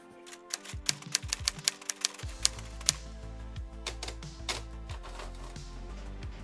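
Typewriter keys clacking in an irregular burst of sharp, close strikes, about a dozen hits with a low mechanical thump beneath, alone without talk.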